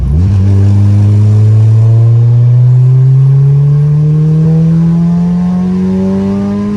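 A tuned all-wheel-drive car pulls hard through a gear, its engine note climbing steadily and loud, close up and uninterrupted.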